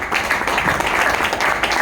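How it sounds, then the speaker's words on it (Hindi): Audience at a business success event in Meerut giving a loud round of clapping, a short burst of dense, close applause at steady volume. "उनके लिए भी मैं चाहूँगा एक जोरदार ताली।"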